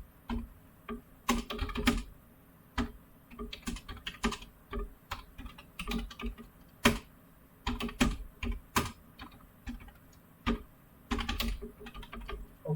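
Keys clatter steadily on a computer keyboard as code is typed, in close, crisp bursts and short runs with brief pauses between them, and no talking.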